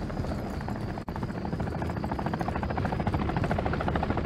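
A helicopter in Call of Duty MW3 whirs with a steady, fast rotor chop that stays loud and constant throughout, with no talking over it.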